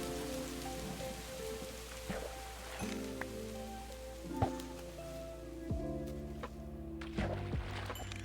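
Rain falling in the Minecraft video game, a soft steady patter beneath low droning game tones, with occasional faint thuds.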